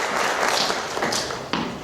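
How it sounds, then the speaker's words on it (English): A theatre audience at a mono acting festival applauds in a dense, steady wash of clapping with a sharper clap or thump near the end, no voices over it. "One more round of applause."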